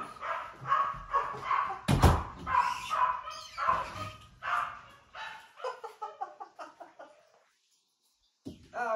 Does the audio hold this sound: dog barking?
yes